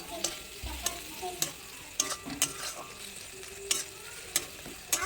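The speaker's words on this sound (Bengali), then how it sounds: "সবটা একসাথে করে আমি বেটে নিয়েছি নিয়ে এই মশলাটা এর সাথে একটু কষিয়ে নেবো" A ground paste of ginger, cumin and poppy seed fries in oil for a fish curry, a faint low sizzle broken by sharp, irregular clinks and scrapes of stirring.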